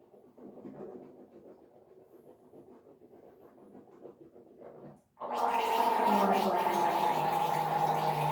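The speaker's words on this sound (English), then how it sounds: "at least you gargle with mouthwash for at least like 20 seconds to 30" Someone gargles mouthwash. Low, muffled mumbling gives way partway through to loud, sustained throaty bubbling that stays close and fills the rest of the clip.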